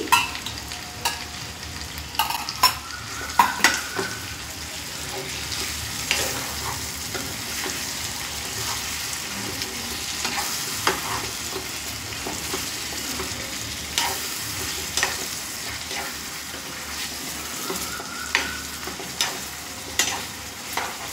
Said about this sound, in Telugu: బాగా మిక్స్ చేసుకుంటున్నాను